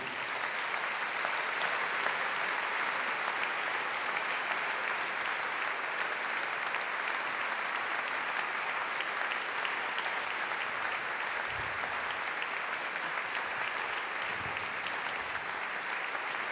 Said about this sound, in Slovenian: Gospe in gospodje, z aplavzom po moje pridejo.